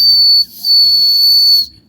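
A person whistles a single steady, piercing high tone while trying to mimic a sparrow, held close and loud with a brief break partway through, then cut off, with no talk.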